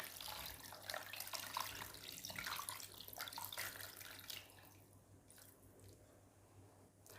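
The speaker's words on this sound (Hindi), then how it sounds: "अब मैं साथ ही इसमें रूम टेम्परेचर वाला पानी शामिल करूँगी।" Room-temperature water running steadily from a kitchen tap into a bowl of frozen meat, a continuous close splashing stream that softens and thins toward the end with no talk over it.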